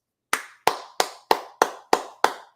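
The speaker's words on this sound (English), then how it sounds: "I need a round of applause for Tyler Reddick." Seven evenly spaced sharp hand claps ring out alone at a steady moderate rhythm, each one crisp and close with a short decaying tail.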